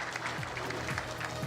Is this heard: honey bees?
no